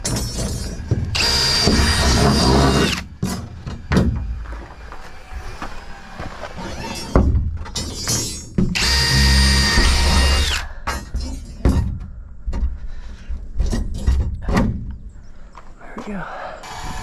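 A power drill drives into wooden forms for concrete pool steps during an inground swimming pool build, sounding in several loud, whining bursts of a few seconds each, with quieter pauses between them.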